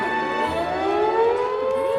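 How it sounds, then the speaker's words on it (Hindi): An air raid siren in a movie wails in a steady, loud sustained tone with a slowly rising pitch, sounding alone without voices. "सायरन की आवाज।"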